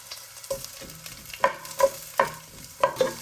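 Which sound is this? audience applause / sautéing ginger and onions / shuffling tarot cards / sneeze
sautéing ginger and onions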